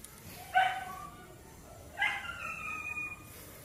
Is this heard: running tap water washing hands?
no